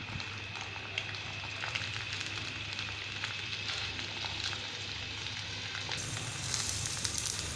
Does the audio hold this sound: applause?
no